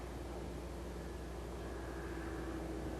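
Bird 2 aircraft in flight on its first test flight, leveling out after a high nose-up attitude; a steady, continuous broadband engine and air roar with a faint tonal whine, constant in level throughout and no talk.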